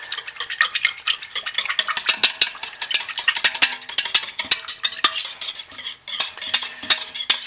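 Fragrance oil being stirred into soap batter, a steady run of quick scraping clicks and taps from a utensil against the container. The sound is close and moderately loud, with no voices.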